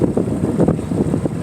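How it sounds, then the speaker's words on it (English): Sailboat motoring slowly south out of a cove, a steady low engine-and-water rumble with wind buffeting the microphone, continuous and fairly close. "I'm slowly motoring the last little bit, heading south out of the Cove."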